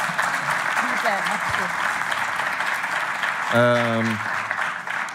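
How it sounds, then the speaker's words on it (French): A studio audience on a French quiz show applauds in a sustained, even patter of many hands, while a voice speaks briefly near the end. "Applaudissements."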